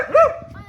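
A small dog at a São José bonfire celebration in Queimadas, Paraíba, gives one short, rising and falling bark-like yelp up close, with people murmuring around it.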